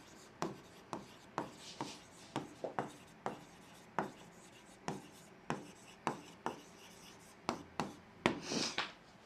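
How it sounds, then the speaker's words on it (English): A pen writes on paper in quick close strokes, each a short scratchy tick, coming in irregular bursts about one per second, with no talk over it. "I'm just going to write that down for you."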